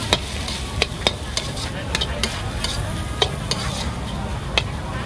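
Field rat with kaffir lime stir-fried in a wok: sharp metallic spatula scrapes and clanks recur irregularly over a steady hiss of sizzling oil, close and fairly loud.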